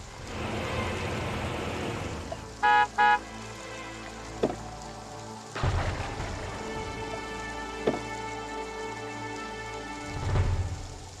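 Steady rain pours continuously, with a couple of brief tonal beeps and low rumbles in the background.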